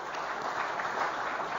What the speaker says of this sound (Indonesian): kita berikan tepuk tangan yang meriah